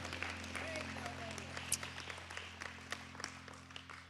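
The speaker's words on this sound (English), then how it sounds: "Give the Lord a hand clap of praise tonight." A church congregation claps in praise to the Lord during an evening service, a broad wash of applause with scattered sharper claps over a steady low hum, with voices mixed in.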